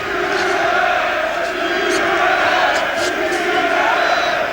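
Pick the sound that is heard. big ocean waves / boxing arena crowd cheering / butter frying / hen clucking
boxing arena crowd cheering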